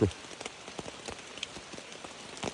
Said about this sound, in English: it is raining. And it's been raining for a long time